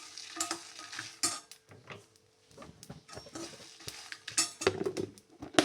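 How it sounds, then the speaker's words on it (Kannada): Dry red chillies frying for a tamarind gojju, stirred in a pan: soft sizzling broken by repeated scraping and clinking of a spatula against metal, close and uneven. "ಈಗ ಸ್ವಲ್ಪ ಒಣಮೆಣಸಿನಕಾಯಿಯನ್ನು ಹಾಕೋತಾ ಇದ್ದೇನೆ"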